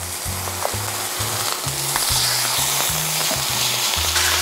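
Oil-marinated meat sizzles and fries in a pan with no extra oil added, a steady broadband crackle with low rhythmic bursts as pieces are stirred, close and loud throughout with no talking.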